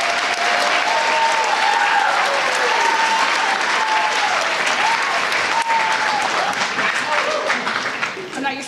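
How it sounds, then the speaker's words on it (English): Concert audience applauding flute ensembles, a sustained loud wash of clapping from a large crowd with faint voices underneath, easing slightly toward the end. "One more round of applause for both of the flute ensembles."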